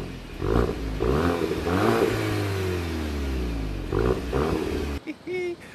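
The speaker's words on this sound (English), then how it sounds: "I want to show you guys just a little bit of what the car sounds like." A car engine revs up hard several times in bursts, rising and falling loudly up close, with brief gaps between pulls before settling.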